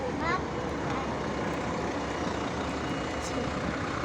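Riding inside a Škoda 14Tr trolleybus, a steady low rumble of the moving vehicle with road noise and a faint whine, continuous and close, with a brief chirp early on.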